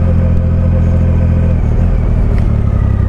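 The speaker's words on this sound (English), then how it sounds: "when you blip the throttle, you think it would just slam you over" A Triumph Rocket III motorcycle engine runs close and loud with a deep, steady, throbbing rumble that holds throughout, with small throttle blips swelling slightly within the drone.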